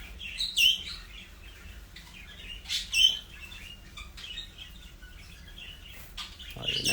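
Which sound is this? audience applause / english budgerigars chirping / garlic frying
english budgerigars chirping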